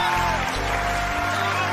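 Audience applause at a Hindi-Urdu poetry recital, a dense continuous patter of clapping filling the room, with a low steady hum underneath throughout.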